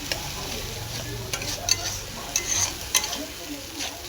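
Ground spice paste stirred and fried in a pan for rui fish kalia, with a steady sizzle and a few sharp spoon scrapes against the metal.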